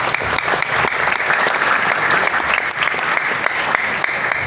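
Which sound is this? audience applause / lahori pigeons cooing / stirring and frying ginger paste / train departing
audience applause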